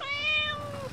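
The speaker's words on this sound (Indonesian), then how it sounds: "Ada kucing masuk got." A cat meows once from inside a street gutter, one long drawn-out call that falls slightly in pitch, close and fairly clear over a low background rumble.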